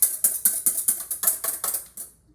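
Batter for apple fritters being whisked in a bowl, made from a historic recipe: a quick run of about ten crisp, rhythmic strokes up close, then a brief stop.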